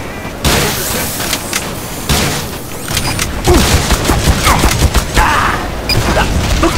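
Heavy gunfire and explosions in Team Fortress 2, dense overlapping shots and blasts in a loud, continuous barrage, with someone talking briefly over the action.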